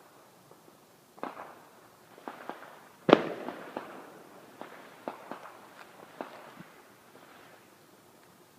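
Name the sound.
Victoria Day fireworks heard at night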